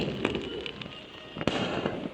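Firecrackers set off in celebration crackle and pop continuously at a middle distance, with a few louder sharp bursts standing out against a dense, noisy background.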